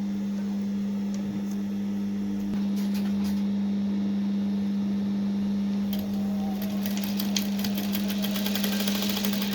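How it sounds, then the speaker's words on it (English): A steady mechanical hum with a low drone, joined by bursts of rapid ticking and whirring like a sewing machine stitching in short runs. "So you're going to take it back to the sewing machine to just cover it up and sew it that way."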